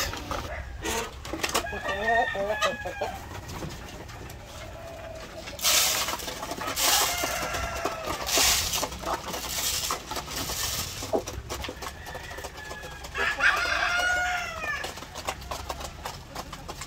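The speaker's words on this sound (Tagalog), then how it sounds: "So meron tayong 7 mga manok dito." White leghorn and barred rock laying hens kept for table eggs cluck and squawk nearby, with a few louder crowing-like calls in bursts around the middle and near the end over steady coop background.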